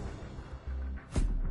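A flashbang grenade in Call of Duty going off with a deep booming detonation near the end, preceded by low rumbling battlefield noise, loud and heavy.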